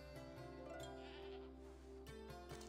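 A goat bleats faintly in Assassin's Creed Odyssey, a few wavering calls sitting quietly beneath steady background music.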